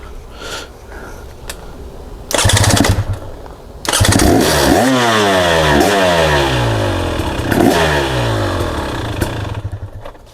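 KTM 300SX two-stroke dirt bike, recently dropped, cranked with a few sputters before catching, then loud close revving with rising and falling pitch sweeps over a steady idle.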